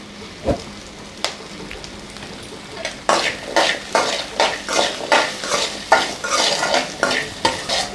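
Shallots sautéing in a pan for black gram chutney, with a couple of isolated clinks, then a run of rhythmic, close stirring scrapes over a steady sizzle. No one speaks.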